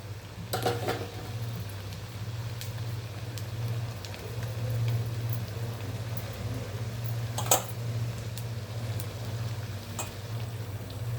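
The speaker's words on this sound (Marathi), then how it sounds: "लालसर कलर येईपर्यंत तळायचा" Gram vadas made from soaked chickpeas frying in hot oil, a steady soft sizzle with a low hum running underneath. Occasional light clinks of a utensil against the pan come through, and there is no talking.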